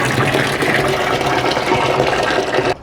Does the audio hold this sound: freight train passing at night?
no